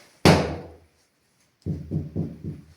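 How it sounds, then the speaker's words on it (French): Knocking on a door inside a house: one loud, sharp thud with a ringing decay, a pause, then four quick, evenly spaced knocks nearby, with no voices. "N'hésitez pas à cogner quelque part, qu'on puisse vous entendre, à une porte."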